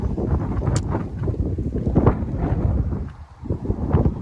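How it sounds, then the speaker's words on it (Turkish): Wind buffeting the microphone in low, rumbling gusts that rise and fall, briefly easing before blowing strongly again, outdoors on rocks by a scenic view in Denmark. "İşte rüzgar var tabii"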